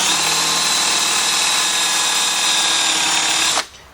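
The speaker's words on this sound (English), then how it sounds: "Then take your Forstner bit, line up that hole, and it's just super simple. Just drill down" A power drill with a Forstner bit bores steadily into wood for about three and a half seconds, loud and close, with a high whine, then stops abruptly.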